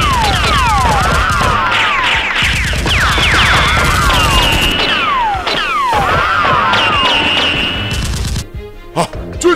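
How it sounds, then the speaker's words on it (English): Toy foam blasters fire in rapid, continuous volleys during a staged mock battle between armed players, a loud rattling barrage layered with whistling sweeps and zaps, pausing briefly before the bursts resume and then fade. "Two soldiers and the boss run out and shoot continuously at Seal X"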